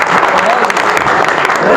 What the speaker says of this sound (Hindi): ये तालियों से स्वागत और गड़गड़ाहट की यहाँ पर आवाज़ें थी